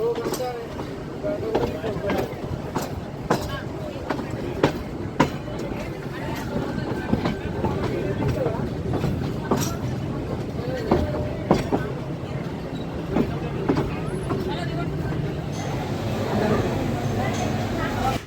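The Ooty toy train runs on its mountain rails toward Coonoor, giving a continuous rumble with rhythmic clicks of wheels over rail joints, while voices murmur faintly underneath throughout.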